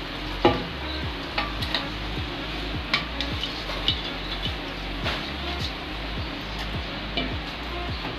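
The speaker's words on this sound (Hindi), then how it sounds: "चावलों को इस चाशनी के अंदर अच्छी तरह से मिक्स करेंगे।" Boiled rice gets stirred into a thick sugar syrup in a pot for matanjan, with a quiet bubbling simmer under regular scrapes and soft taps of a spoon against the pot, close by, with no talking.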